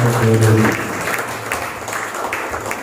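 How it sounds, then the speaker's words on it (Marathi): A congregation claps for God during a church service; after a voice at the start, a burst of close group clapping follows, fading to scattered claps. "आपण टाळ्या वाजवत देवाला."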